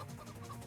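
A golden chicken in a Roblox game gives a short, quiet cluck, a single brief burst heard alone.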